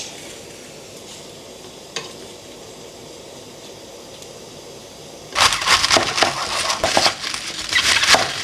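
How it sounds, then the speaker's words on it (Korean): Vegetables and tofu drop into a boiling pot of Korean-style stew made from an Ajinomoto Cook Do kit, a sudden loud burst of crackling, bubbling and clattering after a quiet stretch with one faint knock. "이제 바글바글 끓어서 채소를 넣을게요"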